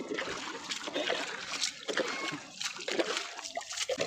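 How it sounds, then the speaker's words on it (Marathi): Water splashed onto the freshly plastered wall of a village house, irregular wet splatters and trickles, fairly faint and close, with a little talk in the background. "पण पाणी मारणं गरजेचंच आहे."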